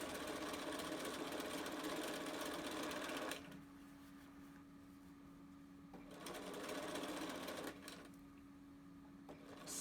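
A sewing machine stitches fabric for a small adult face mask, running in a fast, steady mechanical whir, pausing briefly and then restarting in short bursts, close and clear.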